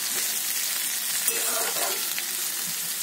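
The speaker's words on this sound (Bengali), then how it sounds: "পেঁয়াজ লঙ্কা দিয়ে আরও 2 মিনিট আমি ভেজে নিলাম" Onion and green chili frying in a pan for a Bengali brinjal dish, a bright, even crackling sizzle close by, with a couple of soft stirring scrapes in the middle and no speech.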